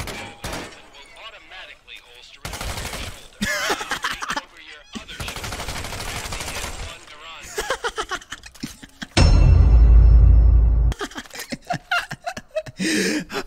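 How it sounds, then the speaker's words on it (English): Gunfire in the Medal of Honor VR video game, loud bursts of rapid automatic fire and single shots in chopped rhythmic volleys, with a heavy explosive rumble partway through and voices talking between bursts. "So the shooting's actually kind of cool."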